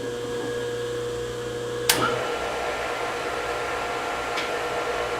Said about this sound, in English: Fire up the rotary phase converter.